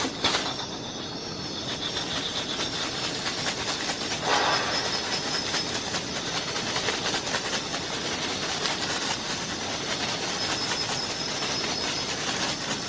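During an ayahuasca ceremony in Kotococha, Ecuador, a shaman shakes a bouquet of leafy branches strung with bean and seed beads, making a steady, dense, hissing rustle and rattle that continues close and unbroken throughout, with no voices.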